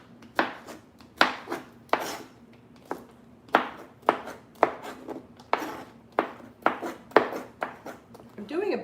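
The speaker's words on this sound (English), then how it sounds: "This particular tool cuts the pineapple nice and thin" Knife chopping pineapple on a cutting board, about a dozen crisp, evenly spaced chops in a steady rhythm, close and clear.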